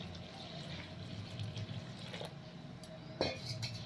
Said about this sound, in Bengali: এখানে আমি দিয়ে দেব পরিমাণ মতো উষ্ণ গরম জল